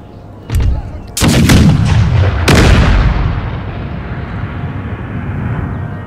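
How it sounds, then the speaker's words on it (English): Cannon fire rings out in Empire: Total War with the Empire 2 mod: a loud boom, then two more heavy blasts about a second apart, each leaving a long rumbling decay. "Let's see if our artillery is going to fire."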